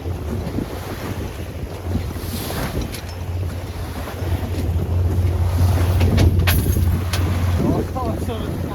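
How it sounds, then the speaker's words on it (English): Waves wash around a 24-foot San Juan sailboat under a genoa sail: a steady, rushing slosh of water heavily mixed with buffeting wind noise on the microphone, continuous and close throughout. "Some waves here."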